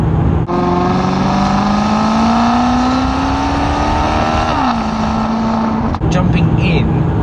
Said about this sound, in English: The exhaust is just about audible when you're just cruising